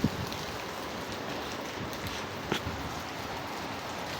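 Heavy rain pours down as Typhoon Uwan makes landfall at night, a dense, continuous hiss of drops hitting surfaces close by, with a couple of slightly louder patters.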